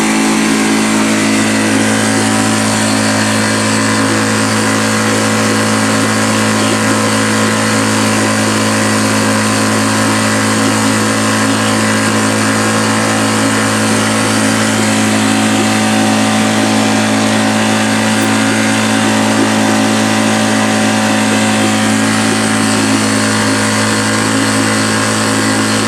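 Parsun 2.6 outboard motor running continuously at steady speed after fifteen minutes of use, a loud, unbroken mechanical drone with a constant hum, close and alone without any talk.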